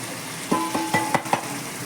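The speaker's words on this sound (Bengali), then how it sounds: "এবার ভালো করে মশলাটাকে কষে নেবো" Spice masala of turmeric, cumin, coriander and Kashmiri chilli powder with salt sizzles in hot oil for katla fish kalia, with a series of scraping spatula strokes clinking against the pan, close and clear with no talk.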